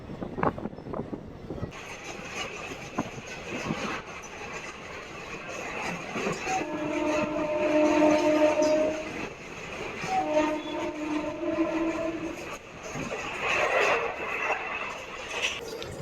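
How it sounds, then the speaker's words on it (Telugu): A DEMU diesel multiple unit train pulls into Pamidi station on the Hindupuram–Guntakal line, with a steady rumble of wheels and engine, squealing brakes, and long horn-like tones that rise and fade before the train settles. "పామిడి స్టేషన్కి మన ట్రైన్ చేరుకుంది"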